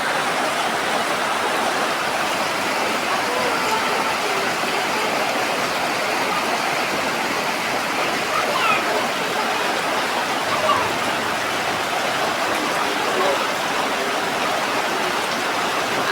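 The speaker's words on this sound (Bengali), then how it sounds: "বৃষ্টি হতেই আছে" Heavy rain pouring steadily, a dense continuous hiss with no letup and no voices.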